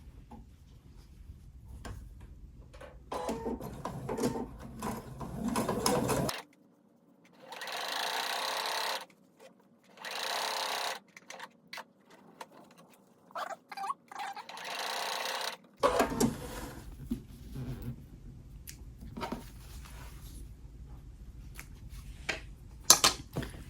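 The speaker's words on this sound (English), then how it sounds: "I'm just going to unzip this while I sew it down" A domestic sewing machine stitches down a quilted glass case piece in several bursts of rapid mechanical whirring, separated by pauses with small handling clicks and fabric rustles, close and clear.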